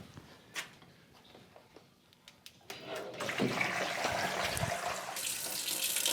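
Water rushes from an outdoor spigot just turned back on after a leak repair, beginning with scattered faint drips and clicks before a steady, loud gushing flow takes over for the last few seconds.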